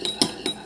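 A metal spoon clinking against a container during a kitchen chemistry experiment with cabbage, three light quick taps in under a second, close and fairly faint.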